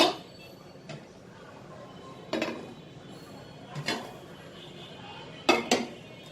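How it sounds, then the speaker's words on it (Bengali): Several separate metallic clunks and scrapes of two frying pans being set down on a stove, spaced out with quiet kitchen background between them. "প্রথমে আমি 2টা ফ্রাই প্যান এখন চুলায় বসিয়ে দিব,"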